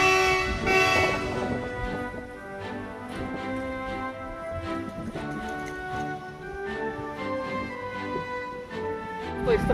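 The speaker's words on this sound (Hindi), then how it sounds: "वहाँ सामने एक WDG 4G लोकोमोटिव यहाँ पर इलेक्ट्रिफिकेशन के काम में हेल्प कर रहा है" An Indian Railways WDG 4G diesel locomotive working on a new-line electrification project, heard as a steady engine rumble with sustained horn-like tonal notes throughout, fairly near and continuous.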